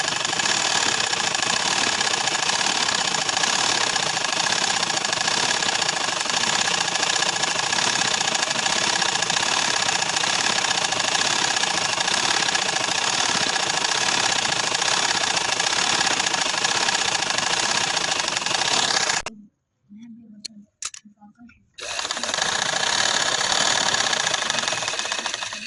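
A sewing machine stitches a designer flower pillow cover, whirring steadily and loudly up close for about twenty seconds, then stops briefly with a few short stutters before running again.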